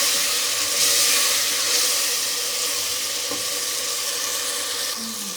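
Masala for chicken biryani frying in a pot, giving a steady, fairly loud hiss and sizzle throughout, with a faint knock partway through and no talking.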